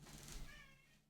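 A single drawn-out cat meow, close and fairly loud, rising then fading over about a second, with no talk over it.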